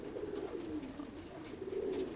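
Pigeons coo softly nearby, low rolling calls repeating in a gentle, continuous murmur, fairly faint with no voices.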